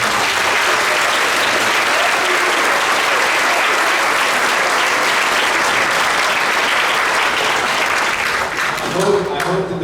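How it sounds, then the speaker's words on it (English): Loud, sustained applause from a large audience at a middle school eighth grade band concert, dense clapping filling the room almost without pause and thinning slightly at the end. "one big round of applause"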